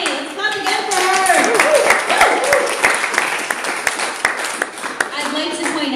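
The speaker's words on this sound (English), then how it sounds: "Let's clap again for her." An audience claps for a performer, with steady, close applause building and then tapering, and a voice speaking at the start and end.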